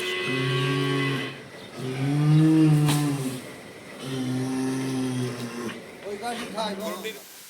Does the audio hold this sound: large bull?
yes